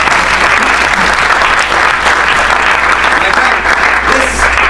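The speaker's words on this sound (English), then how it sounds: "Give Mike a round of applause." An audience at a live magic and trading talk breaks into applause, a loud, continuous, even roar of clapping hands that holds steady throughout.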